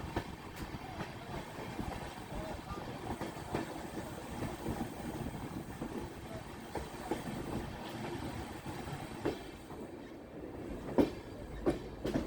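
Rhythmic rumble and rail clatter from the 11097 Pune–Ernakulam express train running slowly on a curving route toward Goa, with wheel clicks and occasional sharper knocks, heard from on board at a steady, moderate level.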